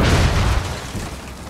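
A deep booming explosion rumbles through a Rainbow Six Siege match, loud at first and then fading into a rough lingering tail with no talk.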